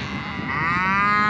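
Cattle on a Black Hills ranch in a blizzard moo loudly and close by, a drawn-out bellow that swells and holds through the second half with no talking.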